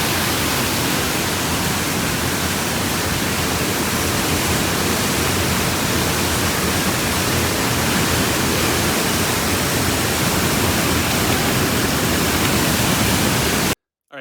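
A waterfall on a mountain stream in Northern California pours as a loud, steady broadband rush with no letup for nearly the whole stretch, cutting off abruptly just before the end.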